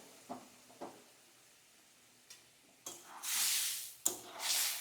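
Ingredients sautéing in a pan: after a few soft taps and scrapes, two bursts of close sizzling swell and fade, quiet overall with no talking.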